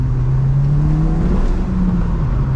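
Audi S3 engine during a rev-matched downshift into second on a back road, a loud close drone whose pitch rises briefly and then settles, with no voices.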